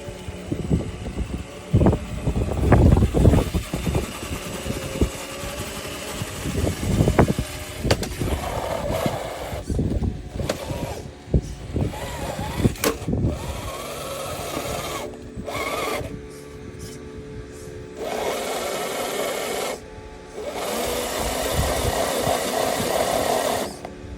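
An RGT Challenger RC crawler in front-wheel drive, its electric motor whining and revving in bursts as the tires spin and churn in sand, up close and loud with no talking.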